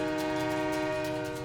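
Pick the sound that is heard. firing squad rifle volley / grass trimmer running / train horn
train horn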